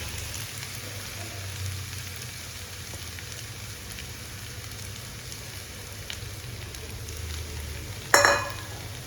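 Lemon sevai (rice vermicelli) being mixed in a hot pan, a steady low sizzle with soft stirring scrapes throughout and one sharper clatter near the end; no talk.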